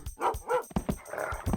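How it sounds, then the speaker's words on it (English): A dog barks in the video game Rise of the Triad, several short yapping barks in a quick uneven series, close and fairly loud over game sounds. "Dog."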